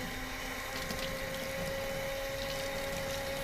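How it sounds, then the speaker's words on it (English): Water runs steadily as glaze is rinsed off pottery dipping tongs, a continuous close hiss and rush with a faint hum underneath and no talk. "So I'm going to rinse off my tongs now because they have glaze on them"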